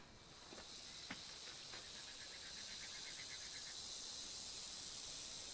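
A rattlesnake keeps up a steady, dry hissing rattle, faint and continuous, with a few brief sharper ticks early on and no voices.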